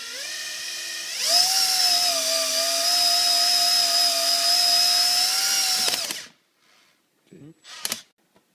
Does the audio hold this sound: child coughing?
no